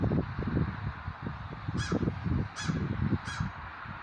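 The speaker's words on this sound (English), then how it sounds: "Okay, just listen to the crow." Three harsh crow caws evenly spaced in the second half, moderately distant, over a low rumbling outdoor background.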